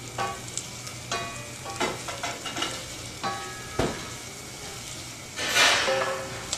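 Slices of andouille sausage fry in a pan with a continuous sizzle, broken by repeated clinks and scrapes of stirring, louder near the end, with no voices.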